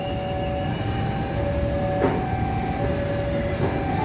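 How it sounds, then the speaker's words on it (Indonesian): A freight train of container and goods wagons passes straight through on track 3, a steady loud rumble with faint tonal rail squeal and a couple of brief clanks. "Jalur 3 kereta api melintas langsung."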